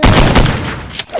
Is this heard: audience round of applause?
no